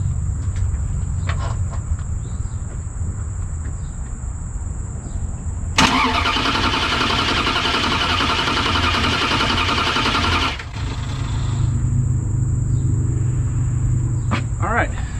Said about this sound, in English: Alright, I'm gonna see if it'll crank.